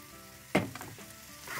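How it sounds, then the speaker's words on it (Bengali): Ginger and garlic paste frying in hot oil in a pan: a quiet, steady sizzle broken by one sharp clatter of a utensil. "আদা রসুন দিয়ে একটু ভেজে নিচ্ছি।"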